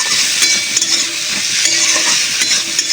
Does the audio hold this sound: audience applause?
no